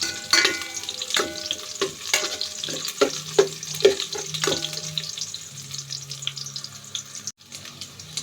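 Onion tossed into a pan with ginger, crackling sizzle broken by repeated sharp clinks and scrapes of a utensil, close and irregular, settling into a softer hiss toward the end.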